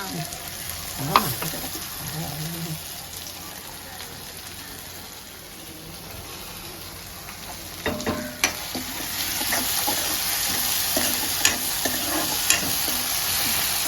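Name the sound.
spices crackling while tempering in oil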